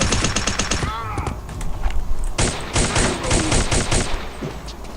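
Automatic gunfire in the video game Return to Castle Wolfenstein, rapid bursts of loud shots in quick succession, pausing briefly before another long burst, with some voice sounds in between.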